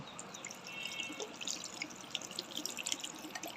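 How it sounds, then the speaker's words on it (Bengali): A little water poured into a pan of kachki fish chochchori on a gas stove makes a faint, quiet trickle with scattered small drips and splashes over a soft background hiss. "এবার আমি অল্প জল দিয়ে দেব"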